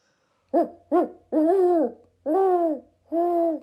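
A human voice imitates a great horned owl, giving five deep hoots: two short ones, then three longer drawn-out calls with pauses between.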